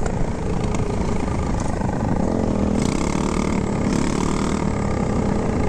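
Motorcycle engines rev loudly and steadily at a street meet and mob, a continuous close, dense drone of several bikes with riders pulling wheelies, no talk audible.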